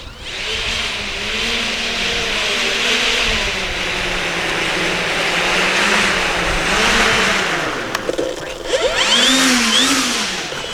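The motor of an E-flite Twin Timber RC airplane whines loudly and close by, its pitch rising and falling as it is run up and braked, with wind buffeting and a few brief disturbances near the end.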